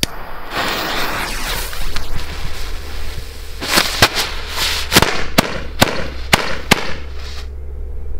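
Old ten-year-old Dutch Knallfrösche firecrackers go off outdoors in a rapid series of about seven sharp, loud bangs after a stretch of fizzing and rustling, closely spaced near the end.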